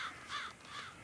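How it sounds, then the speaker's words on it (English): Crows caw in the Black Book video game, two or three harsh calls in quick succession, fairly faint, with no talk. "Oh, crows."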